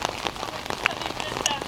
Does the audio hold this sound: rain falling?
yes